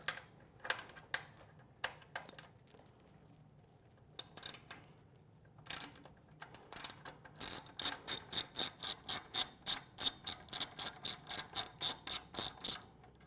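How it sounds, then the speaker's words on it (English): Ratchet working the button head bolts loose from a motorcycle's Vance & Hines muffler and its stock mounting bracket: scattered clicks at first, then a steady, close run of about twenty evenly spaced ratcheting bursts, with no talking. "we need to remove the two button head bolts that secure the muffler to the stock mounting bracket"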